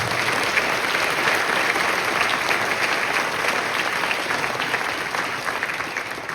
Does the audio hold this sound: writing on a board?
no